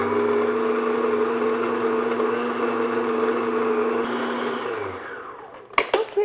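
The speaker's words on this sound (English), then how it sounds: "we're going to put our mixer on medium-low and just beat our egg whites until you have soft peaks" An electric mixer on medium-low beats egg whites to soft peaks for macarons, a steady close whirring hum running for about five seconds before the motor cuts off, followed by a few light clatters.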